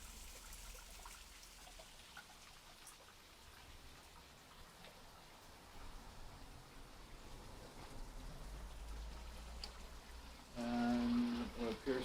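A garden water feature beside a house trickles and splashes steadily, a soft continuous patter like light rain, growing a little louder and closer toward the end.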